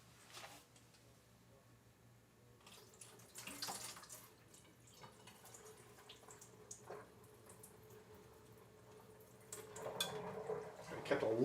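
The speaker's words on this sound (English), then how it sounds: "Let me just pour off the water." Water pours off a starch solution into a sink, a quiet trickle and splash that grows louder toward the end.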